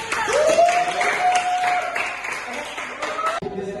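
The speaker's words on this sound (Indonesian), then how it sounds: "Terima kasih kepada Pak Reza. Tepuk tangan." Brief clapping in a classroom during a micro-teaching lesson, mixed with voices and a sustained tonal sound, with the claps fading out after a few seconds.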